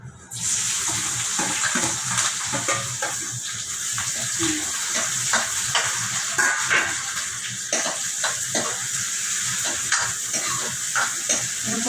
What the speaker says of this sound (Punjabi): ਫਿਰ ਆਪਾਂ ਪਾ ਲਾਂਗੇ ਆਪਣਾ ਪਿਆਜ਼ ਤੇ ਟਮਾਟਰ ਤੇ ਇਹ ਸਭ ਗਰਮ ਹੋ ਗਿਆ ਜੀ ਗਰਮ ਹੋ ਗਿਆ ਤੜਕਾ